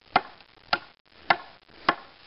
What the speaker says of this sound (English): I'm just chopping from one side right now